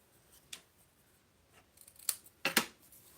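Scissors snip through card stock for a handmade thank-you card, a few quiet, separate cuts with a louder double snip near the end, close and alone in a quiet room.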